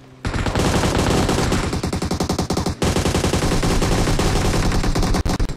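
Rapid automatic gunfire from a shooter video game, dense sustained bursts with a brief break near the middle, loud and close, ending in a headshot; no talking over it.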